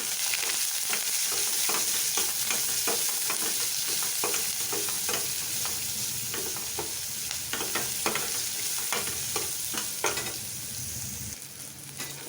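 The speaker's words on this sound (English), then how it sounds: "And into this I'll put in the chopped onion, and I lower the heat." Chopped onion frying over lowered heat in a pan, with a steady sizzle and repeated scraping, clattering stirs at a close, even level throughout, no voices.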